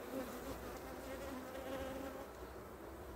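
A honeybee colony hums inside its hive during swarming season, a steady, even buzzing that holds at a fairly low level for the whole stretch with no voices over it.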